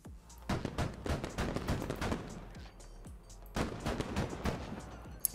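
Bursts of gunfire in the military shooter Squad, with repeated close volleys of automatic fire, a short lull, then another heavy loud burst, layered over more distant shooting.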